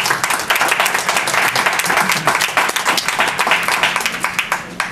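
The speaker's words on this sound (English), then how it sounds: "join me in a warm round of applause for Jacob" An audience at a book talk applauds warmly, a dense, loud burst of many hands clapping steadily for the whole stretch with no voices over it.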